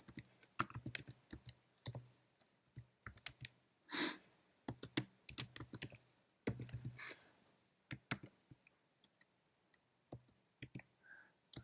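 Keys clatter on a computer keyboard as code is typed, with quiet, irregular clicks and short bursts separated by pauses, close and alone in a hushed room.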